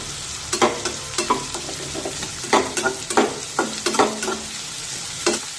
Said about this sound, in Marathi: हा कांदा छान गुलाबी रंगावर येईपर्यंत परतून घेऊया